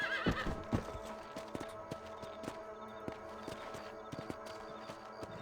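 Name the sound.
horse whinnying and hooves in the video game Red Dead Redemption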